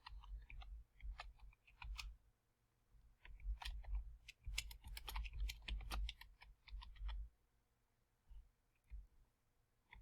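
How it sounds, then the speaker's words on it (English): Rapid clicking of computer keyboard keys while working in Adobe Illustrator, bursts of quick close taps in an uneven rhythm that thin out toward the end, quiet and with no voices. "So you can type out your new word."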